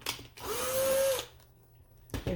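Power drill boring into a large A4 resin notebook: a short rising whine that holds steady for about a second, then stops, with brief handling noises before and after.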